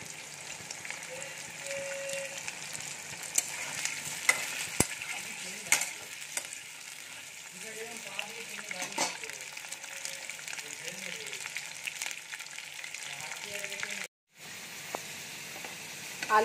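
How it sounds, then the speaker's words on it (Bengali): A low, continuous sizzle of potatoes frying in oil until reddish-brown, with occasional stirring scrapes and clicks close by, followed by a brief cut to silence near the end. "আলুটাকে লাল লাল করে ভেজে তুলে নেব"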